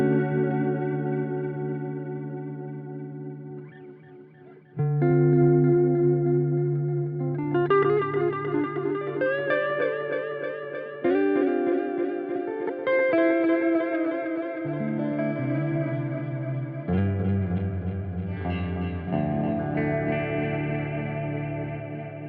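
Guitar chords and notes run through a Meris Polymoon modulated delay set to fast speed and wide depth. Shimmering, warbling repeats swirl and cascade into a lush ambient wash. Sustained and fairly loud, with no voices.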